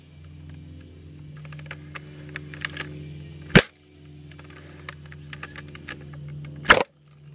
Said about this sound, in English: So as you can see, when you shoot it, the Orbeez comes out